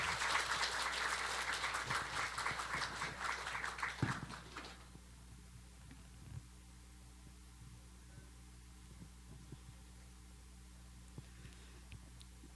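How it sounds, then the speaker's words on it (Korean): An audience at a church event applauds to welcome a speaker to the front, a moderate steady wash of clapping for about four seconds that then stops, leaving a quiet room with low hum. "나오실 때 박수로 환영해 주면 감사하겠습니다."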